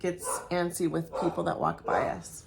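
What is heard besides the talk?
None of the usual background noises is heard.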